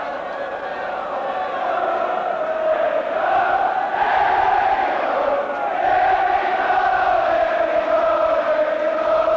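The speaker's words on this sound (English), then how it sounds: "Fantastic backing for Oxford from the crowd." A large football crowd at a 1983-84 Oxford United versus Everton match roars and chants in support of Oxford, a steady, loud, sustained wash of massed voices that swells and dips slightly throughout.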